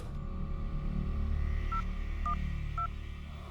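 Phone keypad tones as a number is dialed. Three short, clear beeps are spaced evenly over a steady low hum of background noise, with no talk.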